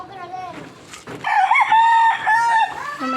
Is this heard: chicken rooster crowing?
yes